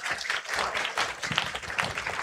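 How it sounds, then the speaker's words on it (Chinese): Applause from a church congregation for a children's performance, steady dense clapping throughout, moderately loud and fairly close. "再给他们一个掌声鼓励"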